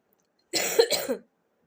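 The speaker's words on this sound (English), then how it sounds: "I had a very throat problem, cough problem." A single short cough, close and fairly loud, made of two quick bursts in otherwise quiet surroundings.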